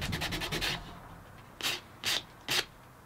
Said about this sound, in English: And then I'll use a piece of sandpaper to help force it down in there.